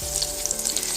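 Zucchini and cheese fritters sizzle steadily in a well-used frying pan, a close, loud, continuous crackle of hot oil with small pops.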